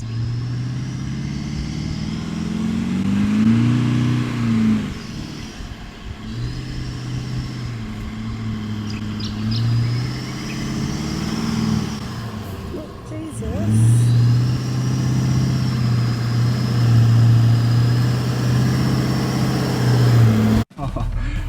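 A 4x4 towing a caravan grinds through soft sand in Australia, its engine droning loudly and rising and falling as it labours with changing revs, closely miked and continuous, then cut off by a sharp knock at the end.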